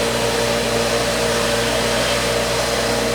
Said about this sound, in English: Here's our nice little parts washer doing all our cleaning for us